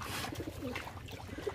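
A pigeon coos softly in a few low, throaty notes, faint and fairly close, against a quiet background with no talking.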